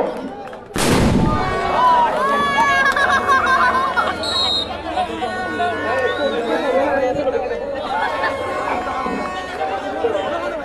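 Fireworks set off for the opening of a boys' football match: one sharp, loud blast near the start, then a steady crowd hubbub and chatter with people talking throughout.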